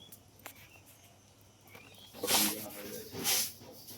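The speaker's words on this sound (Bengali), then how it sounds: "তেলটা গরম হয়ে গেছে, এবার দিয়ে দিচ্ছে গোটা গরম মশলা।" Whole garam masala spices dropped into hot mustard oil for a spicy Bengali snail curry hiss in two sharp, loud sizzling bursts after a quiet start, crackling up close.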